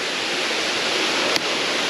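Waterfall on a hiking trail, a loud, steady broadband rush of falling water heard close by, continuous and unbroken apart from one brief click.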